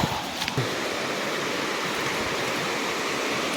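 A small forest waterfall gives a steady, broadband rush of falling water, close and constant, with a couple of brief knocks near the start.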